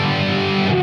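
A loud, greasy distorted electric guitar tone rings out from an EVH-style amp model on a Fender Tone Master Pro, one sustained chord held for under a second before it cuts off.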